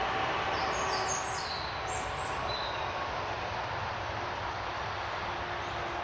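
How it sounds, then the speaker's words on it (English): Birds chirp and warble high above a constant roar of cars passing on a nearby road in the Surrey Hills, the traffic wash steady and dominant while the bird calls come in short bright bursts early on. "the two sounds of the birds and the cars together are quite compelling"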